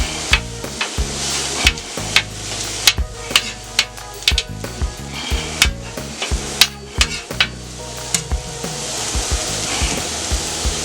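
Sausage frying in a pan for a breakfast burrito, a steady sizzle running under repeated sharp knocks and scrapes as a utensil chops the meat against the pan surface.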